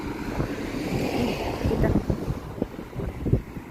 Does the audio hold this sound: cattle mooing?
no